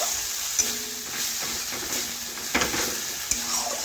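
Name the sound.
stirring and frying spice masala with water in a pan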